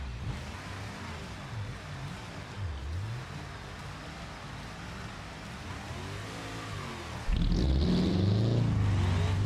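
Car engine in the BeamNG driving game during a multiplayer drift event, revving up and down in wavering surges before a loud sustained high-rev roar kicks in near the end.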